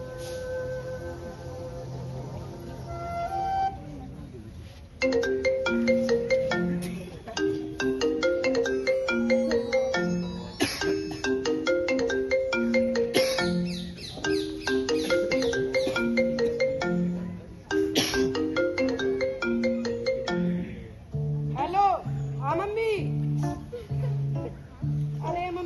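A melodic phone ringtone plays loudly and repeatedly during a school comedy play, its tune cycling over and over through most of the stretch.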